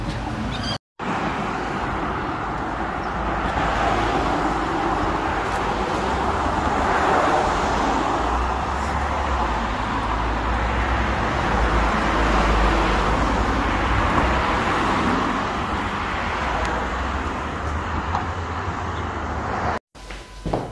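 Steady roar of passing cars and other vehicles along Brighton Road in Australia, heard from the footpath while walking; continuous traffic noise without a break, no clear speech.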